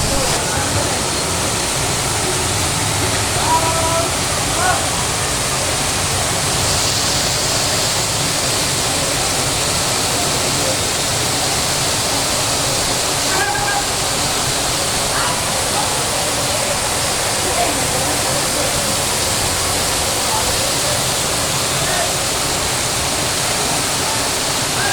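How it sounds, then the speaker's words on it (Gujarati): Heavy monsoon downpour on an evening, a dense, unbroken roar of falling rain that stays loud and steady from start to finish. "ધોધમાર વરસાદ, ઠંડુ ઠંડુ વાતાવરણ કરી ગયો"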